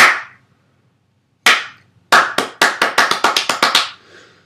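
Bare hands clapping close by in a quiet room: one sharp clap, a second after a pause, then a quick run of about ten claps that speeds up slightly before stopping.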